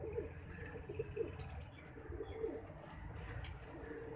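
Soft pigeon coos repeat at a gentle rhythm, faint and somewhat distant, over low background noise.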